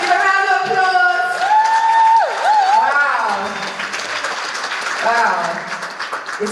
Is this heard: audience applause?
yes